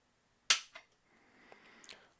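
A Glock 19 pistol trigger pulled until it breaks gives a sharp, close mechanical snap, followed by a softer click and a few faint small clicks in otherwise quiet surroundings.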